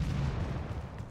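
Bolt cannon fire in the Doom beta video game, a low rumbling boom with a sustained heavy roar, fairly quiet in the mix with no talk.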